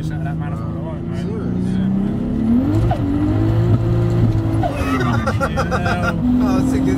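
A 604bhp BMW 525d sleeper with a 2JZ engine swap accelerates hard from inside the cabin, its engine note climbing steadily and loudly while voices murmur underneath.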